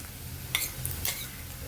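Ginger garlic paste fries in hot oil with onions in a pan for paneer curry, a steady soft sizzle with a few light spoon clinks and scrapes against the pan.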